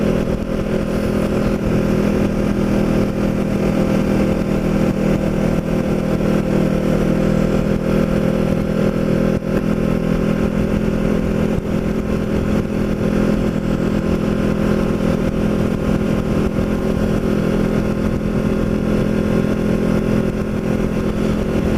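A Kawasaki Ninja motorcycle cruises along a road, giving a constant, even engine drone mixed with wind rush, loud and steady with no changes in pace.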